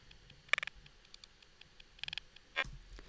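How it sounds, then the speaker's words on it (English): Sparse, short, bright metallic ticks in small bursts, a few crisp hi-hat hits made from a vocal sample trimmed down and pitched up, on a quiet background. "So that's just a vocal sample trimmed way down and transposed up."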